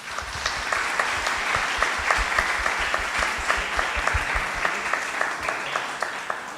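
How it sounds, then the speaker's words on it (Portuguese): Participants at a Spiritism debate panel give a sustained round of applause, a dense, even wash of many hands clapping with distinct sharp claps punctuating it throughout. "uma salva de palmas"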